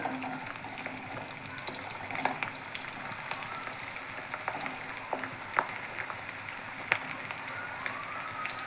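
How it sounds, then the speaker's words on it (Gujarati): Tuvar dana muthiya, small pigeon-pea dumplings, frying in hot oil: a steady, dense sizzle with scattered pops and crackles, close and even throughout with no talk. "આપણે હવે બધી જ ગોળીઓને આવી રીતે તળી લેવાની છે તેલની અંદર"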